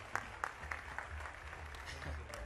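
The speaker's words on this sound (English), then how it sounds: "Just another applause for them." Brief clapping from a small group, a few sharp claps rising into a short patter of applause, fairly quiet and somewhat distant.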